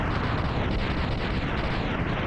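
Dense, continuous explosion noise from the Mega Man X game, a steady roar of overlapping blasts and booms lasting a couple of seconds at even loudness, with no voices over it.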